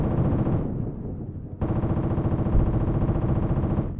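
Sustained machine gun fire from the Project Reality military video game, a dense rapid burst that drops away briefly then resumes loud and continuous alongside an M1A2 Abrams tank in a large online battle.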